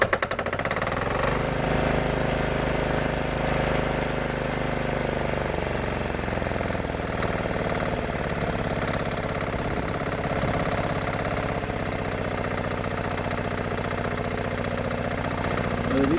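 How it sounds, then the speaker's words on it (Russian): Engine of a Kolyma-style vehicle started in neutral at full throttle, running loud and steady with strong low harmonic drone and slight pitch shifts throughout, no talk. "Газу даем по максимуму и заводим."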